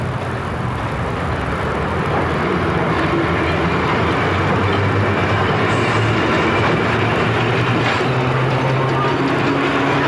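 An Erie Lackawanna train pulls out of Dover station heading east, a loud, steady rumble of engine and rolling cars throughout with no one speaking.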